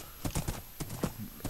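A horse trots in Minecraft, its hooves clip-clopping in uneven beats, close and moderately loud with no voices over it.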